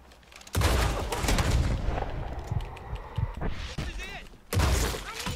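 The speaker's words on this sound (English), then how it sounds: "Okay, I shot his face off." Gunfire in the Western video game Red Dead Redemption: loud, sharp shots, one near the start and another near the end, with crackling and clatter in between and a voice under and around them.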